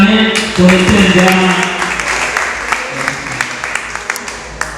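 Audience applause at an official launch of a new song, dense clapping that starts loud and slowly thins into scattered claps, with crowd voices mixed in.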